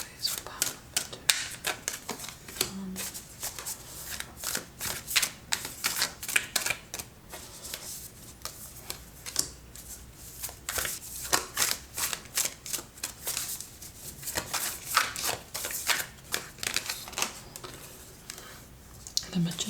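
Tarot cards being shuffled and handled, a rapid crisp riffling and slapping patter that comes in dense bursts with brief pauses, close and fairly loud throughout.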